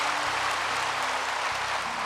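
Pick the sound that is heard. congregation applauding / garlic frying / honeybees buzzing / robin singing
congregation applauding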